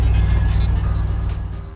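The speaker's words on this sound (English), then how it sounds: "I think I'm gonna throw this in the GTO and see if it fires right up" A 400 horsepower V8 in a Pontiac GTO fires up and settles into a loud, throbbing, lumpy idle with a steady low pulse, close by and without talk.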